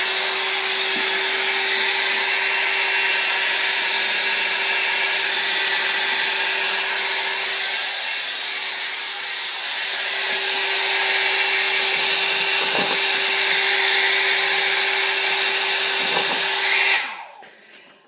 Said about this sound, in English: Going with a hair dryer. Put it on cool